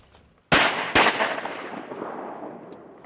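Two loud shotgun blasts about half a second apart, fired at ducks over a mallard pond, each sharp crack trailing off into a long rolling echo that fades over the next two seconds.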